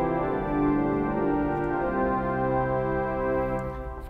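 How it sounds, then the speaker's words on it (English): Cello stop with celeste on a large Austin pipe organ, sustaining a soft, steady chord with a gentle shimmering waver, held alone for about four seconds. "We've got a cello. With a celeste, of course."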